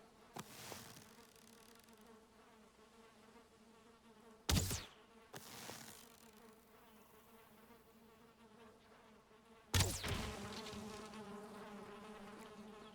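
Bees buzz steadily around a beehive in the Valheim video game, a continuous close drone punctuated by two sharp louder hits.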